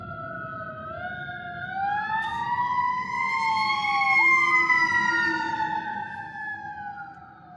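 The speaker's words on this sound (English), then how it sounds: "Looks like we have to let an emergency vehicle pass." An emergency vehicle siren wails past in repeated rising and falling sweeps, swelling louder as it nears and then fading slightly as it moves on, with a low road rumble underneath and no talking.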